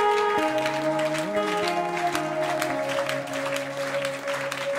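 A church congregation claps through a Sunday service while sustained organ or keyboard chords play over the top, with steady, fairly even claps running under the music.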